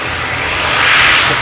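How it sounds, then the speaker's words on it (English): A Ryanair jet airliner arriving from Alicante lands at Manchester Airport, a loud, close, broadband engine roar swelling slightly as it passes, with no talk. "We do have a Ryanair just on finals now. Next to touchdown. This aircraft in from Alicante."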